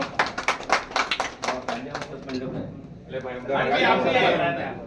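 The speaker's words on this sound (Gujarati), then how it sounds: "દરેક નાના જોરદાર તાળીઓ પાડી આપો" Loud applause rises from a village gathering of a Bhil community marriage-rules meeting, a dense wash of clapping that swells in the second half and runs under talk and crowd noise.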